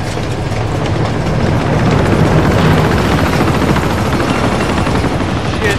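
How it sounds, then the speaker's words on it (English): A helicopter gunship attacks in the video game Uncharted 2: Among Thieves, a loud, dense, continuous roar of rotor noise mixed with rapid rattling gunfire that fills the whole stretch without any speech. "I hate helicopters!"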